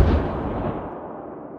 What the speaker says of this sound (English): gunners manned the large deck cannon and opened fire